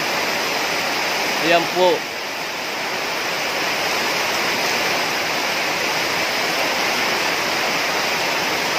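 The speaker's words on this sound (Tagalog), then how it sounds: "Halos lumalakas na po yung baha." Rushing floodwater in a rural stream after heavy rain in Palawan roars as a steady, loud broadband wash throughout, with someone speaking briefly over it near the start.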